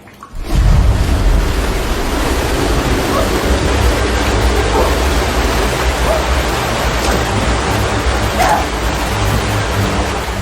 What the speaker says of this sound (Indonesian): Tanpa ia tahu, badai di luar semakin menggila.